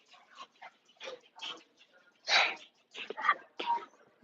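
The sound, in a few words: dog barking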